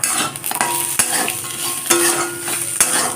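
Bitter gourd, potato, onion and bori fry with salt, turmeric and chilli powder while being stirred, a loud, close sizzle broken by repeated sharp scrapes and clanks of the spatula against the pan, with no voices.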